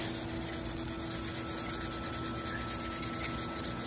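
Steady, quiet rubbing of sandpaper across a wooden flintlock rifle stock, a continuous close scratchy hiss with faint rhythmic strokes and no voices.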